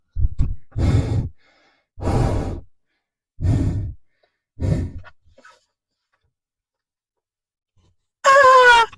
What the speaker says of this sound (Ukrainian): Я чую, як він дихає.